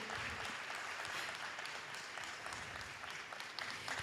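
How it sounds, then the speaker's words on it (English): Audience clapping at a women's EHS conference as a speaker comes up on stage, a continuous dense, distant-sounding wash of applause in a large hall with low background rumble. "Please keep clapping for this beautiful woman as she comes up on stage"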